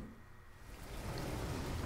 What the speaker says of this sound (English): Rain. Stormy.